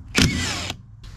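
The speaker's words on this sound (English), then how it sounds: "next we just need to take off a 16mm nut and a 13mm on the other side" A power tool spinning off a 16mm nut on the wiper linkage of a BMW E60, one short loud whirring burst that rises in pitch, followed by a brief fainter spin.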